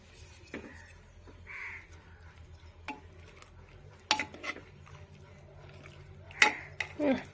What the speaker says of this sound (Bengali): একটু নেড়ে দেখি চামচ নিয়ে